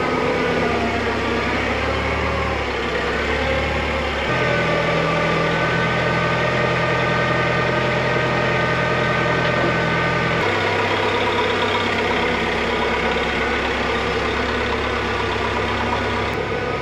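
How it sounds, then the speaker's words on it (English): A forklift engine runs steadily while a Land Rover Defender with an LS3 swap is moved, a continuous mid-to-low rumble holding nearly even in level throughout, with slight shifts in pitch and load but no talk. "we're just gonna swipe it with the forklift"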